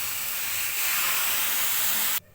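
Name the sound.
milk added to lachha semai cooking in hot pan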